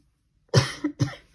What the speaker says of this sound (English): Coughing away.